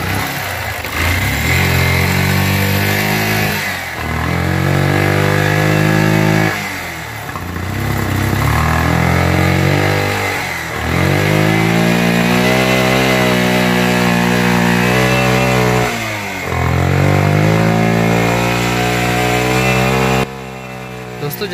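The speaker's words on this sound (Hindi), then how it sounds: "इसमें काफ़ी वाइट स्मोक है और इंजन इसका काफ़ी आवाज़ कर रहा है स्टार्ट करने के बाद।" A Yamaha FZS motorcycle with a white-smoke fault runs loudly after starting, its engine note rising and falling in repeated revs about every few seconds, close and continuous throughout with no speech.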